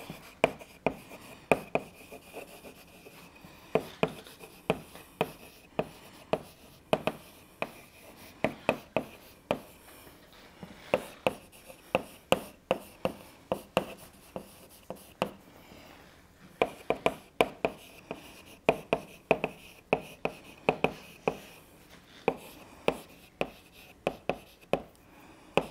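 A derivation is written on a board during a mathematics lecture on Jacobians of curves, with chalk producing faint, irregular taps and short scratches in quick clusters against a quiet room.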